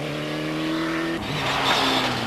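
A Ford Sierra Cosworth rally car on the Isle of Man rallies, its engine note rising and shifting as it roars past close by, loud and harsh against the surrounding noise.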